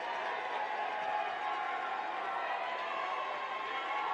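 A high school boys basketball crowd at a regional playoff game, a steady, moderately loud roar of cheering voices filling the gym without pause.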